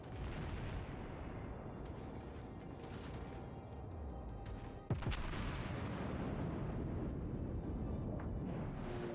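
Naval guns from warships in World of Warships, a US Iowa battleship facing Atlanta and Ottawa cruisers, give a continuous roar of distant fire with one sharp loud blast near the middle before the rumble carries on.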